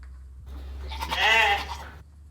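A goat bleats once, a loud wavering bleat of about a second rising out of a quiet background with a low steady hum.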